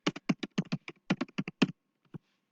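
Quick, crisp keystrokes tap out a short burst on a computer keyboard, close and clear. A brief pause follows, then one last key press.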